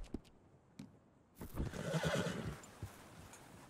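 A horse whinnies loudly in the middle in Red Dead Redemption 2, preceded by a few scattered hoof clops and light knocks, then fades to quiet.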